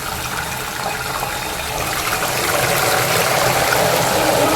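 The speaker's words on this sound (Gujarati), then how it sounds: "હવે આ પાણી એડ કરી દેવાનું મીઠાવાળું" Salted water is poured into hot oil while frying potato wafers, a steady rushing pour growing slightly louder and denser toward the end, with a broad hissing texture and no talking.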